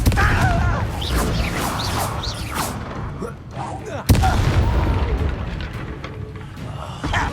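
Confringo spell blasting in Hogwarts Legacy: a burst of booming, crashing explosions with a sharp impact near the middle, rumbling on under game combat noise.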